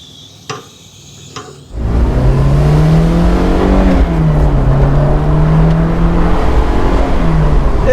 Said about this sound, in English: So let's take the car for a quick test drive,